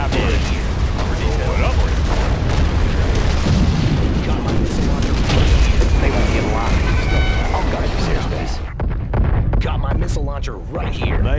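Missile launcher fire and explosions in the Command & Conquer Generals strategy game, a dense continuous barrage of booms and rushing launches under game voice lines and effects, loud throughout.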